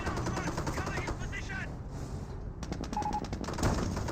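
An upgraded machine gun bunker in Company of Heroes lays down rapid, rattling bursts, with a brief lull midway before the clattering fire resumes loudly amid other combat noise.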